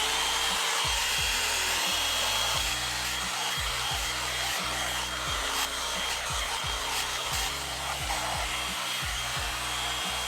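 A handheld blow dryer runs steadily and loudly through the whole stretch while straightening hair at home, its broad airy roar with a rhythmic rubbing, brushing texture layered on top and no talking.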